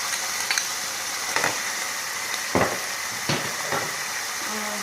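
Chicken pieces and onion sizzle in a pan, a steady frying hiss with a few louder scraping stirs spaced through it, close and moderately loud with no talking.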